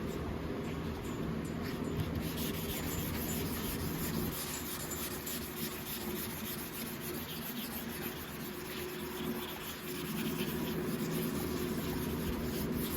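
Hand block sanding paint on a Chevrolet S10 truck hood makes a continuous close scratchy rasp, steady from start to finish.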